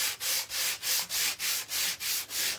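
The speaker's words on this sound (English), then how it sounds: "All right, so I'm going to sand down the middle." Sandpaper rubs back and forth across a wooden cookbook stand in quick, even strokes, about nine in a steady rhythm. The sanding is close and loud, with no talking.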